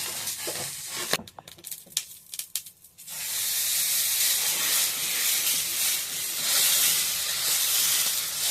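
Dosa batter hitting a hot pan, a few sharp crackles and taps followed by a loud, steady broad sizzle that carries on to the end.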